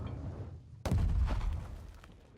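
A single heavy cannon shot in the medieval siege game Conqueror's Blade, a sudden deep boom that rolls and fades over a couple of seconds after a quieter stretch of background noise.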